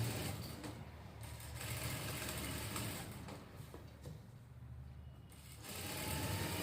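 Sewing machine stitching the neckline of a blouse, a steady close mechanical whir with slight swells in speed and brief pauses, no talking.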